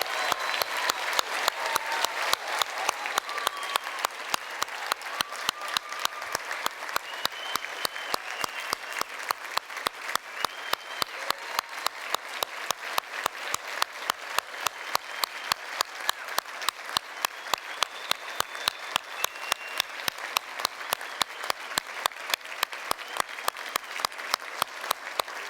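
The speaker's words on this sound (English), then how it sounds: "give our graduates a hearty round of applause" A large audience at a university graduation ceremony claps steadily and continuously, a dense, even wash of applause sustained throughout without letting up.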